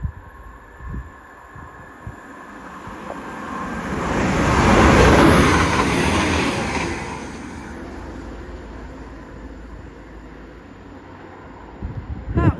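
A Class 57 locomotive passes through Adlington station, rumbling and whining as it swells from a distant approach to a loud roar up close, then fades away over several seconds.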